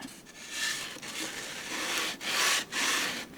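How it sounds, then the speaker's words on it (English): A wooden locking bar slides through a slot in plywood on a portable tool chest, giving a close, steady dry scraping rub that swells and dips in a few strokes with brief pauses between them. "We'll grab our locking bar, and I just want to see if this is going to slide through"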